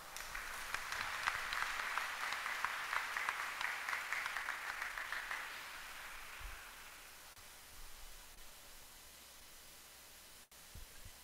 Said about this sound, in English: Let us give her a round of applause.